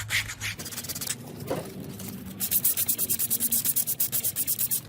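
A mid-century modern wooden chair is sanded by hand, first with irregular scraping rubs, then with quick, regular back-and-forth strokes in a steady close rhythm, loud and alone without voices.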